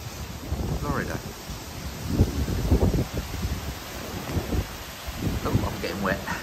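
Tropical storm wind and rain batter Florida trees as a steady rushing roar with gusty swells and rustling, with a person talking faintly underneath.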